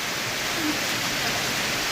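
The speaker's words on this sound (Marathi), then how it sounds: "ती पाऊस जोरात पडायला लागलाय" Heavy rain pouring down in a village, a dense, even hiss of falling water, loud and constant with no break and no voices.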